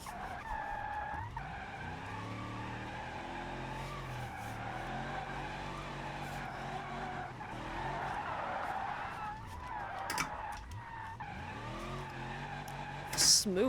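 Video game car tires squeal continuously as the engine revs and slides, the screeching rising and falling through a long drift, with a voice talking over it.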